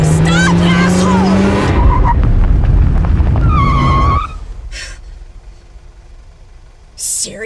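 Tires squeal sharply as a car skids hard to a stop, a loud, harsh screech lasting several seconds over engine roar and shouting, followed by quiet and a brief later squeak.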